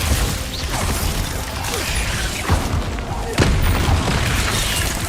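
Glacius ice spell cast in Hogwarts Legacy, a dense crackling rush of game effects with a few sharp thumping impacts layered over continuous rumble.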